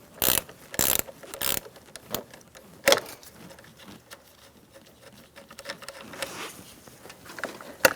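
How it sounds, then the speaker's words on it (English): An 8mm wrench loosens the negative battery terminal on a 2007-2017 Ford Expedition 5.4L, giving loud close metallic ratcheting clicks in several bursts followed by softer tool and handling noises, with no talk. "Using an 8mm wrench, we're going to disconnect our negative battery terminal"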